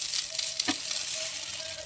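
Milk and egg soaked bread toast frying in ghee and being flipped: a soft, steady sizzle with one brief clink of a utensil partway through.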